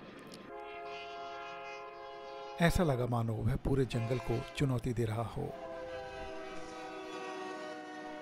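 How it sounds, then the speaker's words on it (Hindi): A steam locomotive comes roaring out of a tunnel in a forest, its sustained whistle tone droning throughout while a voice narrates over the middle stretch. "वो स्टीम इंजन एक बड़ी आवाज़ के साथ सफ़ेद कोहरे जैसा धुआं छोड़ता हुआ सुरंग से बाहर निकला"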